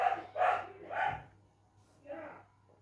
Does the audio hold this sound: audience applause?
no